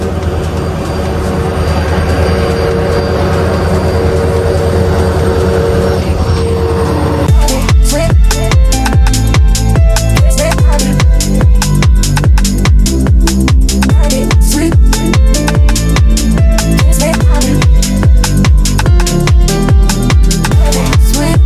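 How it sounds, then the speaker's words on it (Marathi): A train passes close to a railway level crossing with its gate down: a steady rumble gives way, about a third of the way in, to loud, rhythmic clacking of wheels over rail joints that continues to the end. "फाटक पडला आणि ट्रेन आले"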